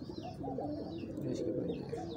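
A pigeon coos close by in a steady, rolling series of soft throaty calls, with faint chirps above and no voices.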